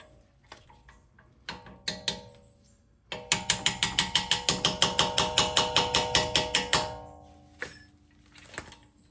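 A 1/4-inch ratchet clicks in a rapid, even run of about twenty sharp pawl clicks while bolting up a Mercedes C63 brake caliper, with a few isolated metallic taps before and after, close and loud with no talking.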